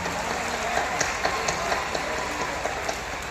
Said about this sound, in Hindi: जोरदार तालियों से महाराज शुरू करेंगे